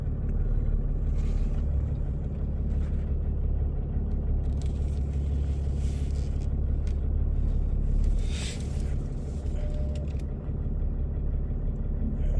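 A pickup truck reverses slowly toward a tow bar outdoors, its engine idling as a steady low rumble with some wind noise and faint clanks, heard close and continuous with no talking.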